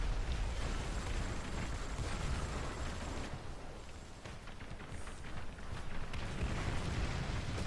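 A tank's ammunition rack detonates in War Thunder ground battles, a dense roaring blast with crackling debris and rumbling fire that dips briefly, then swells again.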